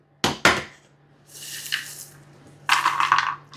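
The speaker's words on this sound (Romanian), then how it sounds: "Nuca prăjită, va trebui să o tai" A knife chops toasted walnuts on a board for a Queen Maria cake, with two sharp close knocks followed by bursts of crisp crunching and scraping cuts.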